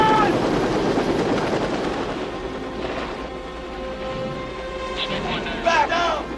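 Helicopter rotor and engine noise in a Vietnam War film battle scene, a loud continuous roar with shouting and radio chatter over it.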